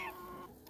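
Hens clucking close by in a short burst of soft, overlapping calls, heard from ground level among the flock.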